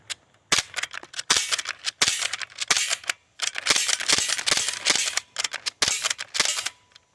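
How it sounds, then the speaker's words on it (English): An Umarex MP-5K BB gun fires at a metal target in rapid sharp snapping shots, single and in short bursts, each with a crisp ringing hit, loud and close with no talk. "Now let's take a couple shots at this metal target."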